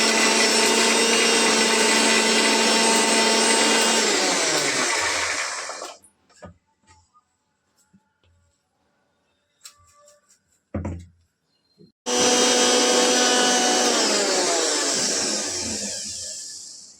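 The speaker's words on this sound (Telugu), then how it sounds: "మిక్సీ వేస్తున్నాను." An electric mixer grinder blends ginger chutney with garlic cloves and salt, a loud high whirring run of about six seconds, a pause with a few clicks and knocks from the jar, then a second loud burst.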